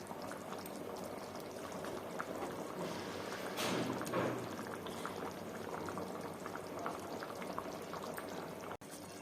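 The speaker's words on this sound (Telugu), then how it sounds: "ఒక 5 నిమిషాలు బాగా మగ్గనిద్దాం." Potato kurma simmers in a pot with a soft, continuous bubbling. A brief louder gurgle comes near the middle, and no one talks.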